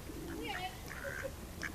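Pigeons coo softly and intermittently, faint and somewhat distant, in short low warbling phrases over a quiet background with a hint of human voice.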